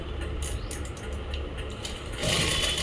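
A sewing machine runs steadily while stitching the pocket on a pair of palazzo pants, a close, continuous mechanical whir with rapid ticking bursts that grows louder and brighter near the end.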